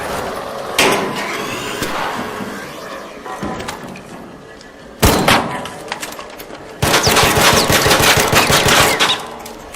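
Loud, close gunfire bursts in rapid rattling volleys, with one sharp heavy blast and a long sustained burst of repeated shots, mixed with dense game-like noise.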